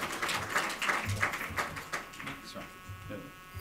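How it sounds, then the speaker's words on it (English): An audience at a policy symposium gives a short burst of applause, dense patters of clapping that rise and then thin out over a few seconds. "You can clap."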